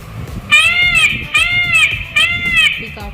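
Three loud, wailing electronic peacock calls in a row from a talking teddy toy, each a rising-falling harmonic cry, clearly synthetic and toy-like, with faint background noise.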